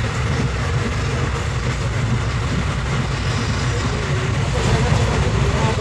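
A train running on rails near Jodhpur railway station in Rajasthan produces a loud, steady low rumble with a faint clatter, filling the whole stretch without pause.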